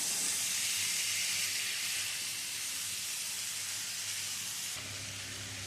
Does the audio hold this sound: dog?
no